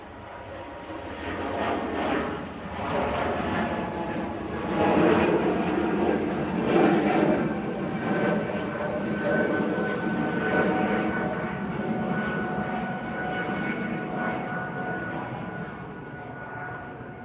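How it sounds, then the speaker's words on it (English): An Air France Airbus A220-300 jet departing Manchester Airport gives a sustained, swelling roar laced with a distinctive high-pitched engine whine, strongest mid-way and lingering to the end. "Amazing high-pitched noise that one was making there."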